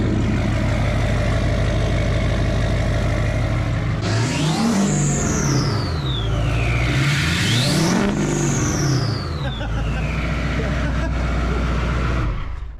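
A dually pickup truck's engine revs hard through its exhaust, climbing and falling in two loud sweeping pulls over a steady rumbling idle, close by and alone.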